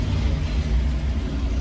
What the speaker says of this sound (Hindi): GS रोड तो मैं पहुंच गया दोस्तों, लेकिन बात ये है ट्रैफिक जाम।